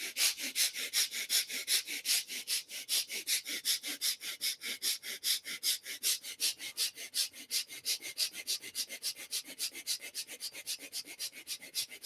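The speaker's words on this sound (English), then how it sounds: "start breathing quick and short breath. Gentle breath from both the nostrils" Quick, short, gentle breaths drawn through both nostrils repeat close up in a fast, even rhythm, roughly three per second, for about twelve seconds with no talking.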